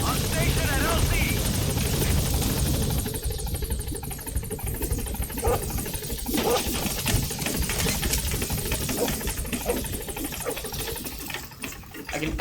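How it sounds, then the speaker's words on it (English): A video game helicopter engine drones continuously, close and steady, with a rapid rotor chop throughout, while voices talk over it. "I can just hear Dee Dee just pitter-pattering around the helicopter, and it just sounds so cute."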